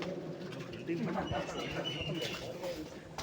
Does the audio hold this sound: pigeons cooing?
yes